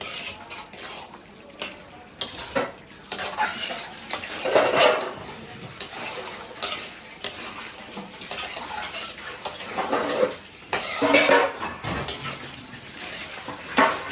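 Chicken curry with spicy chilli powder is stirred and mixed in a pot, with irregular scraping and clinking of a ladle against metal and a soft sizzle in the background.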